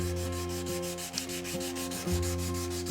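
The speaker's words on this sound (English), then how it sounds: "with 400 grit, I can make shorter passes. Of course, also because my sanding block is shorter." Fine 400 grit sandpaper on a short sanding block rubbing along a guitar neck during finishing, steady back-and-forth strokes with a soft hiss, close up, no voices.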